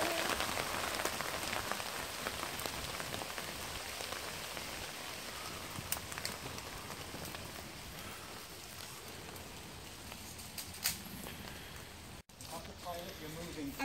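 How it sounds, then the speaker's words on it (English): Steady rain pours down on surfaces outdoors, a dense, continuous patter that lasts throughout with a few faint voices and scattered louder drops. "Here comes the rain."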